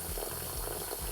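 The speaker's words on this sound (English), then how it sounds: "that ice bath fill with water" Tap water running steadily into a kitchen bowl filling an ice bath around broccoli, a continuous close bubbling rush with no voices.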